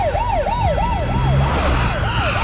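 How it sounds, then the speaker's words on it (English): Emergency vehicle sirens from an animated rescue-vehicle cartoon wail in a steady, repeating up-and-down pattern, loud and close, with a low motor rumble underneath and no talking. "sirens away"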